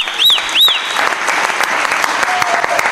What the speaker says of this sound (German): Wir klatschen für den Herrn.